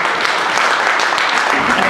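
Dense, sustained applause from a large audience giving a standing ovation after a Phantom of the Opera performance, loud and steady throughout.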